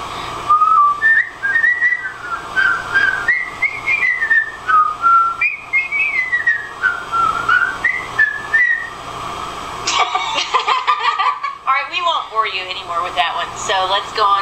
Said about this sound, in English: First, we're going to whistle. We wish you a Merry Christmas.